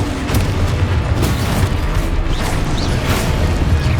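A Confringo spell explosion in Hogwarts Legacy, a dense, loud booming blast with rumbling low end that fills the whole moment without a break.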